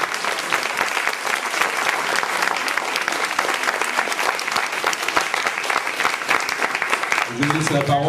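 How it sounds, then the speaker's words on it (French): An audience at a French high school charity event applauds in a dense, sustained burst of clapping, close and lively throughout, with a voice breaking in at the end. "Vous pouvez applaudir un peu plus fort"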